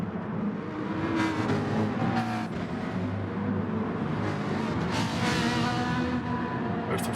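Ferrari race car engines in the GT Sport racing game at Interlagos, Brazil, a steady dense roar of several cars running together with shifting whine, continuous and fairly loud throughout.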